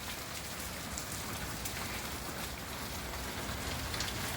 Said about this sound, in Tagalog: Lakas ang ulan, baka may bagyo ata.